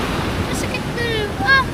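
Strong river current rushing steadily as a broad noisy wash, with brief voices calling over it.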